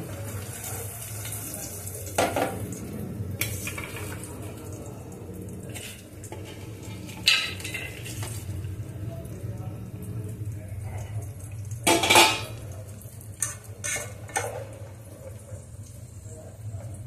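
Cashews and raisins sizzle in hot oil in a pan while pulao is being made. The frying hiss is steady, with a few sharp clinks of utensils and no talk.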